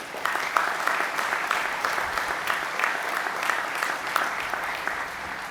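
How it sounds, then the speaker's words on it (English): Steady applause from a graduation audience at Eureka High School's 2020 ceremony, honoring students receiving departmental honors; dense, even clapping holds for several seconds at moderate loudness without speech. "Let's give them all a round of applause"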